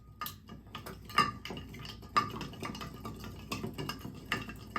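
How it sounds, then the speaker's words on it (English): A Sazerac cocktail is stirred over an ice cube in a glass, giving a run of small clinks and ticks that repeat through the whole clip, close and fairly quiet, with no talk. "put an ice cube in there, and we are going to give this a good stir"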